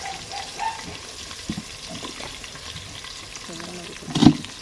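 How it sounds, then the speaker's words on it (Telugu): Onions frying in a pan for a raw tamarind pappu charu, a low continuous sizzle with occasional stirring and splashing, ending in a louder clatter near the end, close with no talk. "ఆనియన్ వేగింది కదా"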